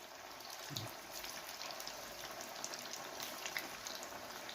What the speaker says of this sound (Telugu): ఇప్పుడు నేను ఒక్కొక్కటిగా ఇందులోని వేయించుకుంటాను.